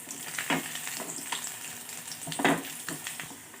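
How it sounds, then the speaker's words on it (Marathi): Garlic and ginger fry in a pan for a spicy paneer masala, giving a steady soft sizzle with occasional louder spatters and stirring scrapes, close and alone with no talk. "आता कांदा सॉरी लसूण आणि अद्रक छान बा तळलेला आहे"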